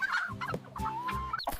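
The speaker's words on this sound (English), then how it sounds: "Turkey." A turkey gobbles and clucks in a quick, close run of warbling calls with no talk over it.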